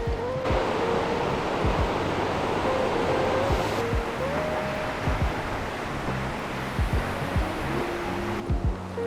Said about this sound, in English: All right, made it to the base of the waterfall.